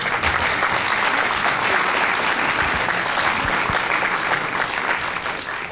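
Sustained applause from an audience, dense clapping that stays loud throughout before easing slightly at the end.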